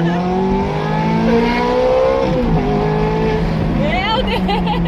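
A Ferrari sports car accelerates hard, its engine note climbing steadily and loud from inside the cabin, with people talking over it throughout.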